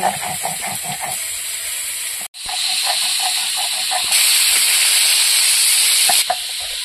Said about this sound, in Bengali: মাছগুলো ভাজতেও খুব সুন্দর, একদম ইলিশ মাছের মতন তেল বেরোচ্ছে, দেখো